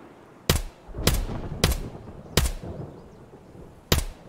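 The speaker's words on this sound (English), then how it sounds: "It's crazy seeing my bullets ping off of his armor." Gunfire in the video game Escape from Tarkov: five sharp, separate single shots at uneven intervals, each ending in a short decaying tail, with no talking.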